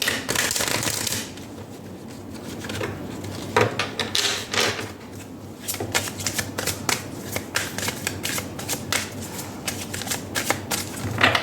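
Tarot and oracle cards being shuffled by hand, a dense run of riffling card flutters and soft slaps repeating steadily, close and fairly loud with no talk.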